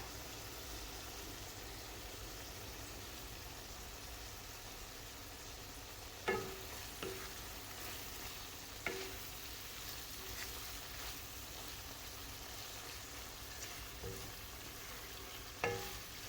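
Dried chanda fish sizzles steadily in a hot pan, with a few sharp clanks of a utensil stirring at intervals.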